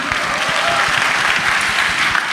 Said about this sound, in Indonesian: Jadi tepuk tangan dulu dong buat kita semua.